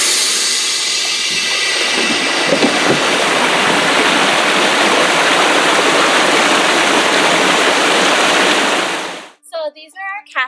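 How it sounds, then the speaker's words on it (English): Water from a dairy barn's floor flush system rushes loudly and steadily across the floor for about nine seconds, then cuts off as a voice speaks briefly. "The floor is cleaned using a flush system"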